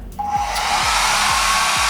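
A compact Xiaomi negative-ion hair dryer switches on and blows a steady, close, even rush of air that continues without a break.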